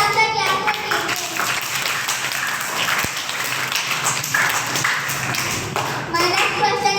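Classroom quiz participants clap together to reward Team A's correct answer, a steady burst of mixed claps lasting several seconds, close by and fairly loud, with a brief voice at the start and end.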